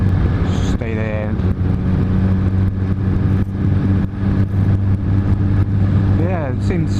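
A 2007 first-generation Suzuki Hayabusa engine idles and revs in a steady, loud drone with slight rises in pitch, running clean without popping, while a voice talks nearby.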